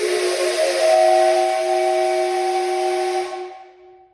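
A 3D printed six-chime train whistle blown with a shop air nozzle sounds one loud, steady chord with airy hiss for about three seconds, then fades out as the air is cut.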